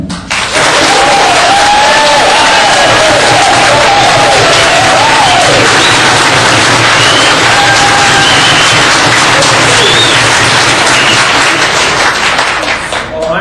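Loud, sustained applause and cheering fill the room at a candidate forum for a North Carolina state senate seat, with a few voices whooping above the dense clapping.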